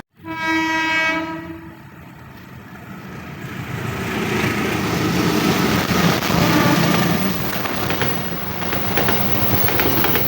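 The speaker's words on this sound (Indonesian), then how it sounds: "Lokomotif CC201 kereta api Dharmawangsa relasi Pasar Senen Surabaya Pasar" Indonesian CC201 diesel locomotive hauling the Dharmawangsa passenger train sounds a long horn blast, then rumbles past close by with swelling engine roar and wheel clatter that grows louder.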